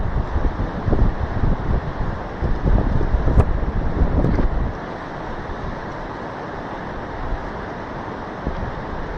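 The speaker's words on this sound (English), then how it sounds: "See what I mean? Windy." Strong wind gusts blowing outdoors in below-zero cold, a loud, steady roar buffeting the microphone that eases slightly partway through and continues without talk.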